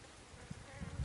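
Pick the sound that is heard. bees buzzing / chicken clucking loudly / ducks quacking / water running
bees buzzing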